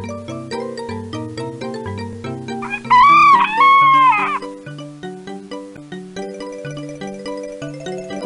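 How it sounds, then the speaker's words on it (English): In the 2003 PC game Muppet Babies: Animals in Nature, a cartoon sheep gives one drawn-out wavering bleat lasting about a second over cheerful plucked background music. "Sheep say, baa."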